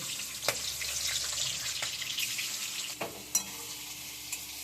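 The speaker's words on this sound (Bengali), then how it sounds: "চিংড়ি মাছগুলো তেলের মধ্যে ছেড়ে দিচ্ছি" Shrimp dropped into hot oil in a home kitchen, frying with a bright continuous sizzle, several sharp spatter pops and stirring scrapes up close, no talking.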